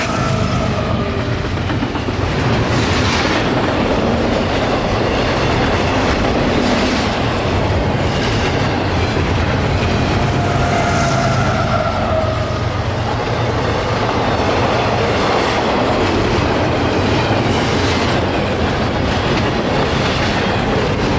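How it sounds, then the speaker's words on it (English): A freight train with two locomotives, one at the front and a mid-train DPU unit, passes close by at night, a steady loud rumble with rhythmic clickety-clack of wheels and occasional wheel squeal, no voices. "Now tonight we see a very rare sight on this train, a mid-train DPU locomotive."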